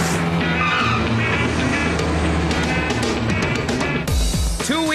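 A red sports car drives loudly and continuously, its engine roaring with tires squealing and skidding, ending in a sharp screech.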